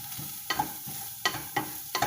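Carrots being stir-fried in a hot pan for fried rice, a soft sizzle broken by several distinct scraping strokes of a spatula at an uneven rhythm, close by.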